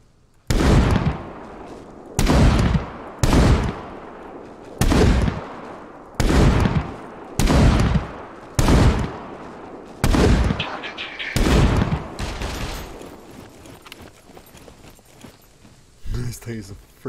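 Loud, booming unsuppressed rifle shots in the video game Scum, fired one at a time at a steady pace, around ten blasts, each with a sharp crack and a short echoing tail.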